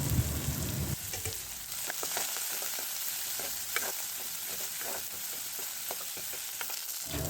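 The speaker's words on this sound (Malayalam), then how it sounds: "അരിഞ്ഞു മാറ്റി വെച്ച ഉള്ളിയും പച്ചമുളകും ചേർത്ത് നന്നായി ഒന്ന് വഴറ്റിയെടുക്കുക" Chopped onion and green chillies sauté in a pan for a quick curry, giving a loud, continuous sizzle with frequent spatula scrapes and stirring clicks throughout; no talking.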